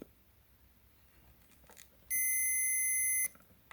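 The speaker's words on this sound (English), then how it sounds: "So if I put this 2 point, it should beep." A multimeter in continuity mode beeps across the fuse of an Artesia AG30 88-key digital piano keyboard: one steady, piercing electronic tone holding for just over a second over a faint background hiss.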